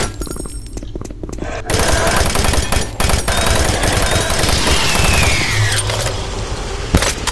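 Rapid automatic gunfire from a weapon in the video game Doom 3 rattles loud and continuous for several seconds, with bursts and reverberant game noise around it and no talking.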